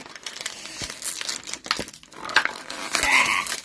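Cardboard packaging of a Pokémon Eevee box ripped open by hand from a punched hole: close crinkling and tearing in several bursts, louder and longer toward the end, with no talking.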